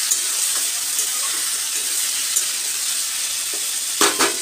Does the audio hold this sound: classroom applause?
no